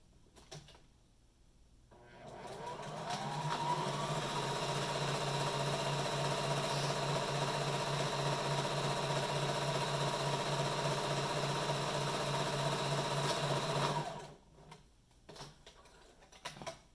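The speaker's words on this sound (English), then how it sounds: "Then we're going to stitch along the top to tack down the interfacing and hold on to it." A sewing machine stitches fabric and interfacing for a duckbill mask. It runs in a steady, rapid mechanical whir for about twelve seconds and then stops, with quiet handling sounds before and after.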